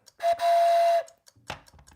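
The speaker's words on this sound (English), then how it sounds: "Train whistle." A train-whistle sound from a puzzle game timer: a single sustained whistle tone lasting under a second, followed by short clicks and rattles of handling; no talk.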